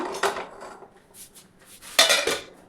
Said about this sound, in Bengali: এবার বন্ধুরা, এটা আমি কড়াই ঢেলে দেব।